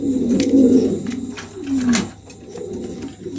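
Pigeons, including an opal-coloured female, coo softly in low, rolling murmurs from nearby birds, a few overlapping calls rising and falling without any talk.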